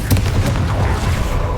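A Confringo spell explosion in Hogwarts Legacy bursts loud and close with a heavy, low boom, followed by a rumbling, crackling wash that stays dense for over a second.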